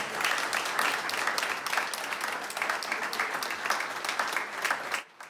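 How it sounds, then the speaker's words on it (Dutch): An audience at a ceremony honouring a long-established company applauds loudly and continuously, a dense sustained clapping that cuts off abruptly near the end. "Applaus."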